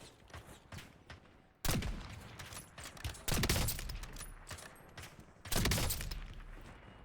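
Bursts of automatic video game gunfire come in three loud volleys separated by quieter stretches of scattered shots and clicks, close and sharp, with faint spoken game callouts in between.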